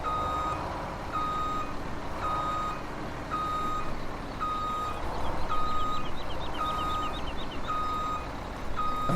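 Steady reversing beeps from a cattle truck in the video game Farming Simulator 17, evenly spaced and repeating throughout, layered over a continuous low engine drone with no talking.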